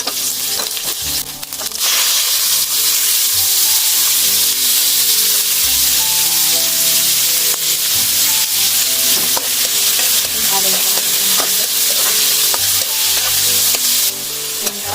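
Garlic, onion and lemongrass frying in hot oil for a Filipino snail dish, with a steady loud sizzle and the clatter of stirring throughout, briefly quieter near the start and end.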